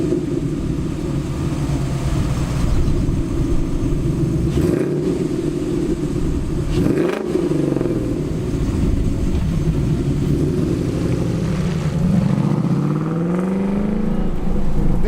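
A 5.0 Coyote V8 engine with a MagnaFlow exhaust, swapped into a classic Ford Bronco, rumbles loudly with a deep exhaust note, rising and falling through a few revs, close by and continuous with no talking.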